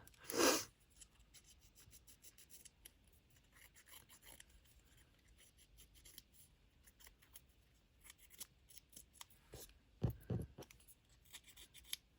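Quiet small scissors snip paper for a label in short, scattered cuts, with faint rubbing and rustling between them and a couple of louder snips.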